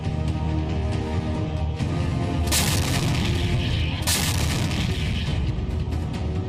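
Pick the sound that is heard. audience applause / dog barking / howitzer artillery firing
howitzer artillery firing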